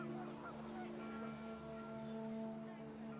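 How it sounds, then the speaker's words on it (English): Geese honk in a panic inside the What Remains of Edith Finch video game, a quiet, continuous jumble of nasal calls with sustained tonal lines beneath, and a voice talks over them. "panicked geese appeared and quickly went"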